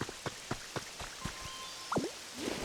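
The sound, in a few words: rain falling in Pokémon Pokopia video game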